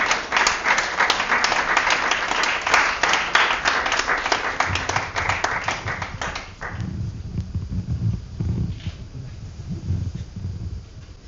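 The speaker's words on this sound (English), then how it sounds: "please give him a warm, salty, green applause" Warm applause from a poetry-event audience, dense clapping for about six seconds before thinning into scattered claps and room murmur.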